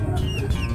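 Chickens and chicks clucking while scrambling over a snack of ripe banana, with soft, continuous cackling and peeping close by and no talking.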